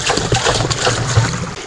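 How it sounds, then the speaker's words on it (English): Water thrown up into the top of a sluice box, a close splashing and trickling wash lasting under two seconds, with no talk. "Throw water up into the top."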